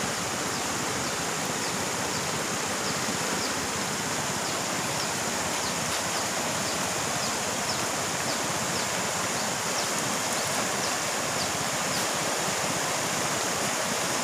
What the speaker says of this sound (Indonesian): Ini riam kita jalai.